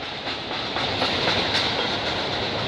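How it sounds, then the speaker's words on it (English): Train rolling past on a rail line in a steady, close, dense rumble with faint wheel clatter throughout. "I can't keep track on which how many trains I'm catching today."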